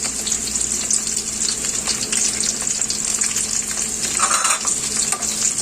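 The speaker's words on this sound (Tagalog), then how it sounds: "Magluluto naman po tayo ngayon ng garlic. Sasabay ko na rin po dito yung sili natin." Garlic and chili sizzle in hot oil in a pan, a dense continuous frying hiss with occasional stirring scrapes, close and loud, and no one speaking.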